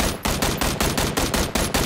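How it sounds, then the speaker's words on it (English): Automatic gunfire in the video game PUBG, a loud rapid burst of shots in a steady repeating rhythm with brief gaps between short strings of rounds. "Opening fire."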